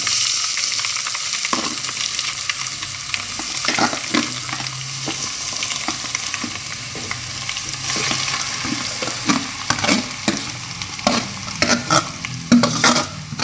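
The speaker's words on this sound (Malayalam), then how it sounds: "ഈ നെല്ലിക്കേന എണ്ണയിലിട്ട് നല്ലോണം ഒന്ന് ഒരു 5 മിനിറ്റ് നേരം മാറ്റിയെടുക്കണം" Powdered Indian gooseberry (amla) frying in oil for Kerala-style amla thokku, a continuous crackling sizzle with irregular scraping and tapping as a spoon stirs it through the pan.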